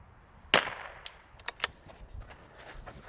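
A single sharp crack from a rimfire rifle during precision positional shooting, close and loud, with a quick fading tail and a few faint clicks afterward.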